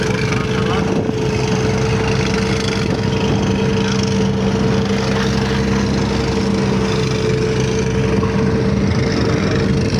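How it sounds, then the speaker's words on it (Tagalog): A boat engine drones steadily and loudly at sea throughout, an unbroken engine hum with a constant tone and no pauses. "Andar na rin dito. Sa mga makina."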